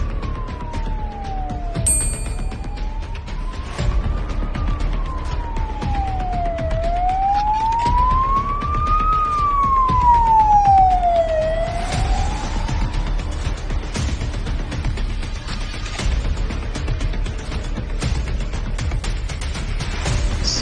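A wailing emergency siren rises and falls in long slow sweeps over steady road and engine rumble. It is loud and close at first, then the wail fades while the traffic noise carries on.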